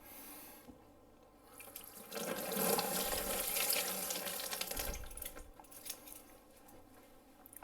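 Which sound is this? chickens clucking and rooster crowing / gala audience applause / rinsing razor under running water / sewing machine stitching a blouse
rinsing razor under running water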